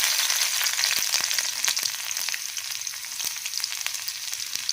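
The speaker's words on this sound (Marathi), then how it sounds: "मी कढईत तेल गरम करून ठेवलं आहे. त्याच्यात मी आता लसूण टाकणार आहे." Garlic crackles in hot oil in a kadhai, a close, continuous hiss with small pops scattered through it, and no voices.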